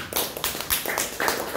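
Small audience at a crypto meetup in San Juan giving a round of applause, with irregular, close, sharp hand claps that come in uneven bursts rather than a dense wash.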